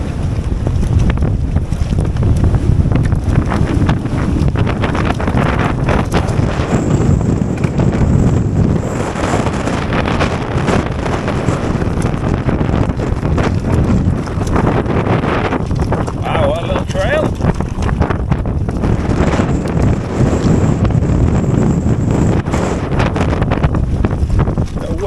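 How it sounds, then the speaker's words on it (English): Strong wind roars across the microphone in a steady, loud buffeting rush while a heavy mountain bike rides a steep black trail at Glenlivet trail centre in the UK, with someone speaking under it. "Wind, man, it's catching me, even my size, on a heavy bike."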